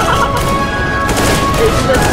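Gunfire from a moving vehicle in the video game CS:GO: a loud, dense burst of rapid shots and booms packed into about two seconds, with a voice briefly audible underneath.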